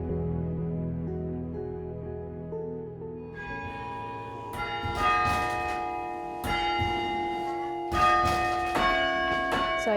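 Tower bells of the Cornell chimes ring out in a sustained, resonant melody, with new strikes layering over lingering tones, loud and alone without talk.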